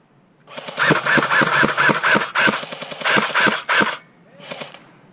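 Airsoft guns firing in a small skirmish, rapid bursts of sharp mechanical clacks in several strings with brief pauses and a final short burst, close and loud with no talk.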